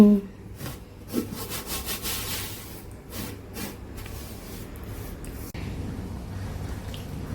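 Banana bun dough of flour and baking powder is kneaded by hand with water added little by little, producing rhythmic close squishing and rubbing strokes in a quiet room.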